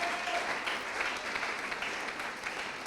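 Church congregation applauding, a dense, steady wash of clapping from many hands for a few seconds, fairly distant in a large room.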